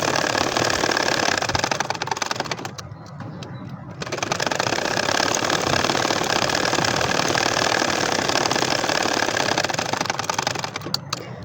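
A household sewing machine runs steadily, stitching a double potolpata nakshi kantha quilt, a continuous mechanical whir that briefly eases off before resuming at a constant pace, with no talking.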